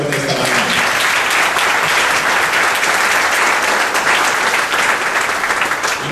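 A congregation applauds during a Spanish-language church service, loud sustained clapping from many people filling the room evenly for about six seconds, with faint voices beneath.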